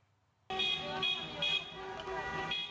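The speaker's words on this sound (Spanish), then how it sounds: "Las bocinas, las luces y el ruido de los coches en fila se transformaron en una señal de peligro" Car horns honk from a line of cars waiting at the border, a loud sustained blare of overlapping horns with traffic noise underneath that starts abruptly after a short quiet lead-in.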